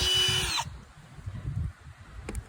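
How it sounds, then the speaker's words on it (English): A power drill whines briefly at high speed boring a 1/8 inch rivet hole at a well house, then cuts off, leaving quiet low shuffling and a faint click. "the idea is to drill the holes with the right size hole, which is 1/8 of an inch"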